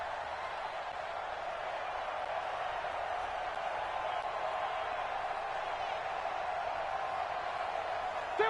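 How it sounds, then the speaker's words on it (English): Steady roar of a stadium crowd in the Dome during a Madden 20 football game between the LA Chargers and the Saints, a broad continuous wash of noise with no clear peaks. "The crowd here in the Dome making things difficult."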